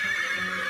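A horse neighs once in a short, bright whinny that is loud and close, with no other sounds around it.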